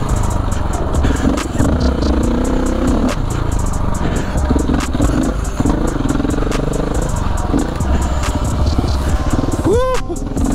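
A KTM 690 Enduro dual sport motorcycle rides off-road on forest trails in the Sierra National Forest, its engine droning loudly and steadily with rattling clatter over the rough ground, then a brief sharp chirp near the end.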